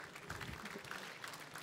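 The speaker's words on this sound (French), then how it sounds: "Et on l'applaudit très fort" Steady applause from an audience at a fishing federation prize ceremony for the champion club, fairly soft and even throughout.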